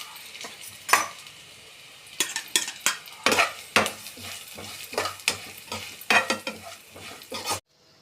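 Sesame seeds roasting dry in a pan while being stirred, a close run of scraping, rattling strokes over a faint sizzle, ending abruptly.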